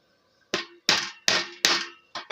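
A fitting is hammered into PVC pipe with five or six sharp, close knocks at an uneven pace after a quiet start. No one talks.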